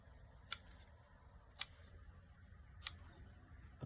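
Scissors snip upholstery material for a Honda Accord armrest, three crisp isolated cuts spaced about a second apart against a quiet background.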